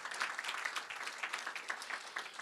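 Audience at a university legacy lecture gives a round of applause, a steady, moderately distant patter of many hands clapping without pause.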